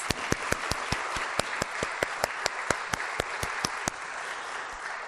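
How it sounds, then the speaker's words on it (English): A town hall crowd gives a round of applause for high school students, steady dense clapping filling the room with sharper individual claps standing out, continuous and moderately loud throughout. "Let's give them another round of applause."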